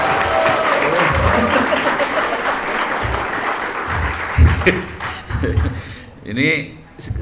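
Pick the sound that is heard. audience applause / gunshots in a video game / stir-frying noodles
audience applause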